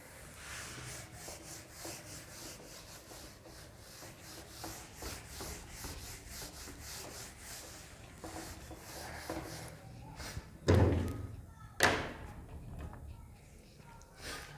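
Writing rubbed off a board in a classroom lesson, a steady scratchy back-and-forth rubbing with a few louder knocks, heard under a man's speech.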